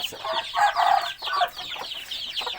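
Hens clucking in a small backyard flock kept by a Thai poultry keeper, a series of close, repeated bursts of clucks with short pauses between them and no voices.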